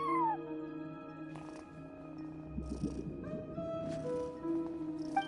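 A cat character in Genshin Impact meows with a soft rising call at the very start, then game music and chiming tones carry on with no further clear meows.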